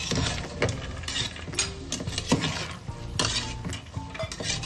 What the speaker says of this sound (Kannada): ಸೊ ಒಂದ್ಸತಿ ಎಲ್ಲಾನು ಕೂಡ ಮಿಕ್ಸ್ ಮಾಡ್ಕೊಳ್ಳೋಣ.